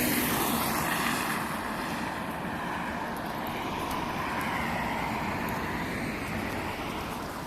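City bus number 8 rolls past close by on a street near central Tampere, its broad, steady roar filling the moment before easing off slightly toward the end, with no talking.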